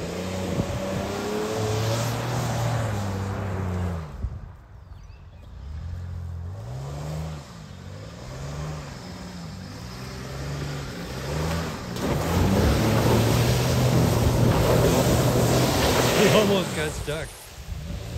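A Dodge Nitro revs hard during a burnout, its engine note sweeping up and down in repeated loud surges, then settling into a heavy, rough roar with a harsh hissing layer, close by and without talk.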